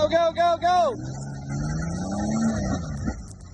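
A small Toyota Tacoma pickup truck drives, its engine humming low and rising in pitch. Excited shouting breaks in at the start, then the engine carries on alone.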